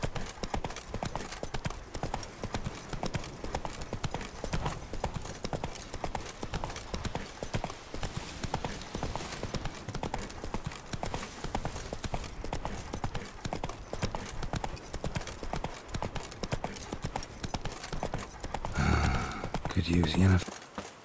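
Roach's hooves beat in a steady, rapid gallop through The Witcher 3, heard from first-person horse riding. The loud, continuous clip-clop runs throughout, with a voice speaking over it near the end.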